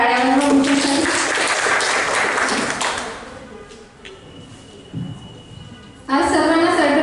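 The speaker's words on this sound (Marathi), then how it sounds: "सर्वांनी एकदा जोरदार टाळ्या वाजवा" Applause from an audience after a poetry recitation at a gathering, a burst of clapping that fades and then returns loudly near the end, with a voice briefly heard in between.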